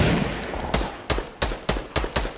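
Gunfire in Fortnite: after a stretch of background noise, six loud evenly spaced shots ring out one after another, sharp and close, each with a short decaying tail.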